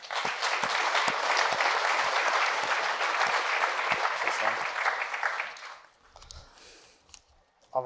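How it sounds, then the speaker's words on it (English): A round of audience applause for a panel guest at an e-commerce strategy event, many hands clapping steadily for about five seconds before fading into quiet room noise with faint movement. "Last round of applause, please, for Shaun."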